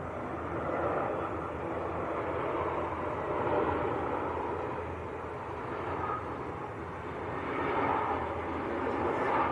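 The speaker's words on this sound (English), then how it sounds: "There is a Qatar 777 cargo going over the top at the moment" A Qatar Boeing 777 cargo jet passing overhead, a steady broad distant roar that swells slightly and fades, with no talk.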